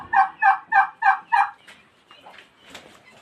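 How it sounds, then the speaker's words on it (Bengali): A large turkey gobbles five times in quick, evenly spaced bursts, loud and close, followed by faint, scattered softer bird calls from a farm pen holding quail and chicks. "বড় টার্কি।"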